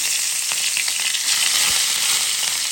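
Hilsa fish pieces fry in hot oil with a loud, continuous, close sizzle and crackle, steady throughout with no voices.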